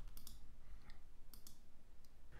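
Computer mouse clicks while editing a page layout in WordPress: several quiet, sharp clicks scattered over a couple of seconds against faint background noise, with no voices.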